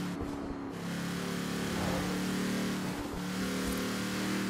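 A Mercedes G63 AMG 6x6 engine drones steadily in Forza Horizon 4 while the truck drives fast, holding a low, even hum that swells slightly as it revs, close and continuous with no talk.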